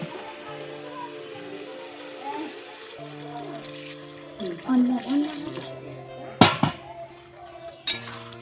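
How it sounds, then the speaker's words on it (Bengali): Water poured into a pan of shrimp and taro leaf curry, a steady running pour with splashy bursts and a couple of sharp clanks near the end, over a low background hum. "এবার জলটা দিয়ে দেবো।"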